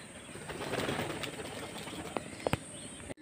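Pigeons, including young squabs, gather on and around a home loft cage, making soft cooing and a few sharp wing flaps and bursts over a steady low background, with no talking.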